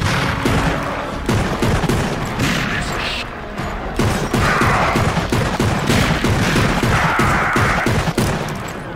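Rapid gunfire from the video game Darkwatch, dense overlapping shots and bursts running continuously at high level, with short pauses and blasts layered in a chaotic firefight.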